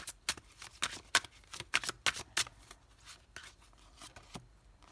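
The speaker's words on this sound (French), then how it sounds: "On va recouvrir tout de suite cette carte de la justice." Tarot cards shuffled, flipped and laid down on a table in a series of quick, close, crisp slaps and rustles, irregular in rhythm and growing fainter toward the end, with no talking.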